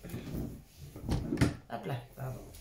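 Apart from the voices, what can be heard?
chair knocking against a table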